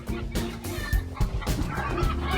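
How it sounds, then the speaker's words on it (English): Frightened chickens cluck and squawk in agitated bursts close by, several birds calling irregularly after an owl attack on the flock. "Those chickens sound afraid."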